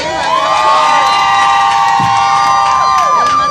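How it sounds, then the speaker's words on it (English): A loud outdoor crowd at a Puerto Rican Day parade in the Bronx cheers and whoops, with sustained shouted voices and high children's yells over a dense, continuous roar. "Please give him a big round of applause."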